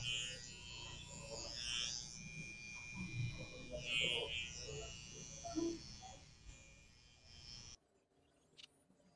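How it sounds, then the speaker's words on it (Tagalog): A detailer hair trimmer cuts the guideline for a low fade on a French crop top haircut, giving a steady close electric buzz with small shifts in pitch as it moves through the hair, then cutting off near the end. "gamit tayo ng detailer"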